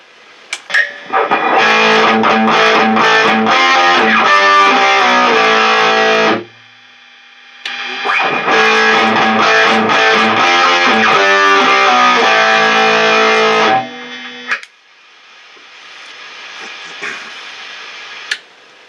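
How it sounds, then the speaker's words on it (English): A heavily overdriven electric guitar through a Soldano SLO Mini amp at half gain plays two loud chugging passages separated by a brief pause, then its buzzing hiss lingers after the playing stops. "Maybe not a huge difference between the crunch and the overdrive sounds"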